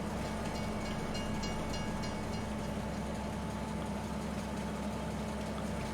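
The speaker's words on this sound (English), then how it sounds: "At least the train's not having any trouble with the snow." A train running on snowy tracks in the Farming Simulator 22 video game, heard as a steady, continuous rumble of engine and rolling wagons with no talking.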